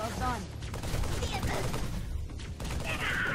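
Gunfire in the Halo 3 video game, bursts of rapid shots mixed with a clatter of weapon sounds and a voice talking over the action.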